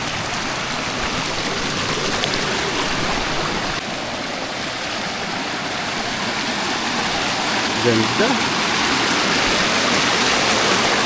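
Water rushes at Candies Falls, where clear water pours over large rocks, a loud, continuous roar close by, with a person speaking briefly over it.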